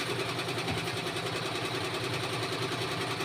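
A sewing machine stitches a school uniform, a steady close mechanical hum with a fast rattling, continuous and unchanging throughout, with no voices.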